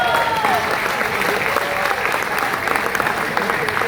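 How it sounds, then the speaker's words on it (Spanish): Audience applause at a leadership event in Atlántico, steady and fairly loud, with voices faintly mixed underneath. "Un aplauso para él"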